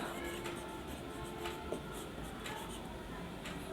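Marker or chalk writing on a board during a microbiology lecture, a steady scratchy stroking with short pauses between strokes, close and moderately loud over a faint room hum.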